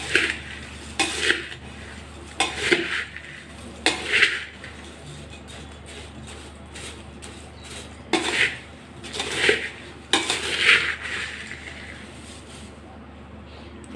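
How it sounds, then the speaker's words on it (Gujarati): Fried poha, rice and corn snack mix stirred in a large vessel, bursts of dry rustling and clinking scrapes every second or two with quieter pauses between, and a voice talking at times. "અને હવે આ બધી વસ્તુને સરસ હલાવી લેશું"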